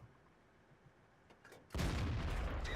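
A 105 millimeter tank gun fires in World of Tanks from a Sturer Emil, a tier 7 German tank destroyer: quiet ambience, then one sudden loud blast that settles into a heavy, sustained rumbling roar.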